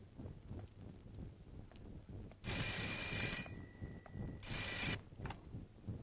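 Telephone ringing in an old Chinese colour feature film, two electronic ring bursts separated by a short pause, loud over quiet room tone.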